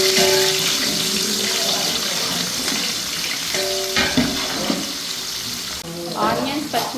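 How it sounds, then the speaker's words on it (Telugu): Cloves, cinnamon, cardamom, marathi moggu, stone flower and onions fry in hot oil for chicken biryani, making a loud, continuous sizzle broken by the clatter of stirring. "మంచిగా ఫ్రై అవుతున్నాయి స్పైసెస్ అన్నీ."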